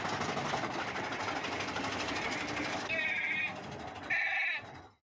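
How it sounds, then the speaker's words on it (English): Goat bleating sound effect, loud nasal bleats arriving in two short bursts near the end over dense background noise with talk underneath. "Where's the goat, Rain?"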